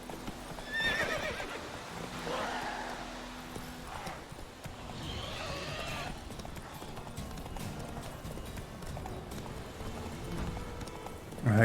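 Horse from The Witcher 3 video game, with steady clip-clopping hoofbeats throughout and a couple of loud neighs and whinnies early on, heard over game ambience.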